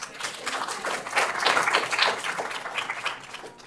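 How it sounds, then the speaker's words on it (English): An audience at a panel event on the justice gap gives a short burst of lively applause, with distinct individual claps swelling and then thinning out over a few seconds. "can we get a round of applause for the tech folks?"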